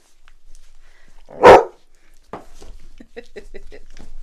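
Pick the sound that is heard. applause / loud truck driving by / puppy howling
puppy howling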